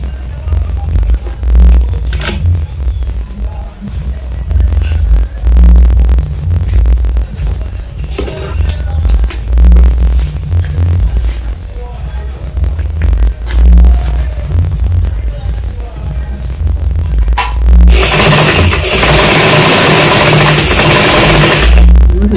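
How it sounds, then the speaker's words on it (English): A sewing machine stitches a half-inch seam around the neck of a two-pleat kaftan, running up close with a loud, continuous motor hum and rapid rhythmic needle clatter that pauses briefly and then resumes. "So I'm sewing the neck with 1/2 inch."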